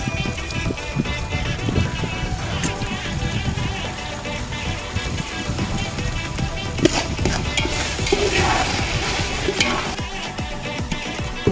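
Tomatoes sizzling and frying in a pot for chicken biryani, with steady scraping and stirring throughout, close and continuous, with a little clatter.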